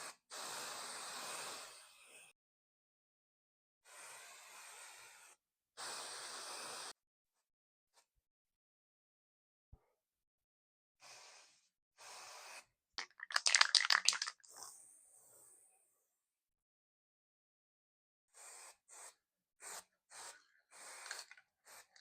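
An aerosol can sprays black paint onto a Yamaha YZ125 exhaust pipe in several separate hissing bursts with gaps between them. Faint rattles and handling sounds are heard in between, close by and fairly quiet.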